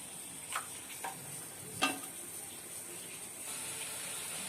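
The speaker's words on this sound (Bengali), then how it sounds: "দেখো জলটা গরম হয়ে গেছে জলটা ফুটছে" Water heats to a boil in a cooking pot ready for fish roe, giving a faint, steady bubbling hiss with a couple of soft knocks and splashes.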